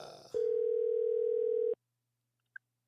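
A telephone dial tone sounds while a call is placed to a guest on a live talk show. One steady, loud, unbroken tone lasts about a second and a half and then cuts off abruptly, leaving silence apart from a single brief faint blip.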